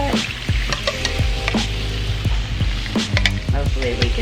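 Food sizzles steadily in a small, overfull skillet, with a dense continuous crackle broken by sharp clatters and scrapes of a utensil stirring against the pan, close and loud throughout.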